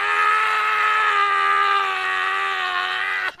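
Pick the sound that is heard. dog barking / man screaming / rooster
man screaming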